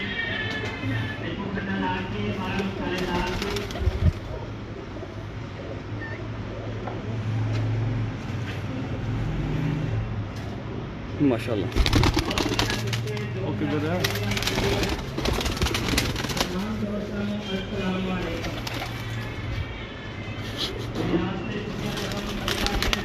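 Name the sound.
pigeons cooing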